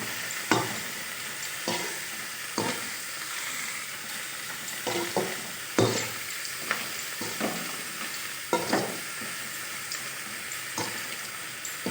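Amaranth greens being stir-fried in a pan with onions, a steady soft sizzle broken by repeated sharp scrapes and clinks of a spatula stirring at irregular intervals, close and fairly quiet, with no talking.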